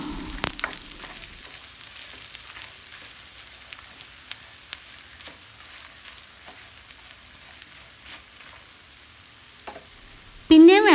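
Dried prawns fry in a pan with a soft, steady sizzle and occasional scrapes of stirring, ending in a brief louder clatter near the close.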